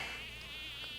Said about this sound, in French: Mouches?